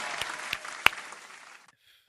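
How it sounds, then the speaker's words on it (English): Brief applause for the Arkansas State Police, a dense patter of claps with a few sharper hits, fading out after about a second and a half. "Let's clap it up for ASP."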